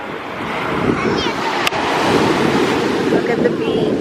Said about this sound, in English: Look at the beach.